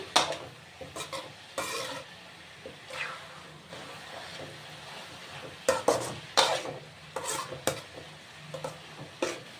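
A cabbage fry being stirred in a pan gives irregular spatula scrapes and clinks over a low sizzle, close by.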